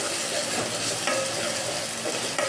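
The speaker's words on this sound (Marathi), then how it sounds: "आता हे छान तेल सुटेपर्यंत परतवायचं" Onion and tomato paste sautéing in oil in a pan for a Marathi Agri-Koli chicken rassa, a steady close sizzle with stirring scrapes running throughout.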